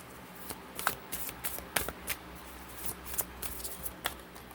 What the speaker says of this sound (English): So I drop all my cards.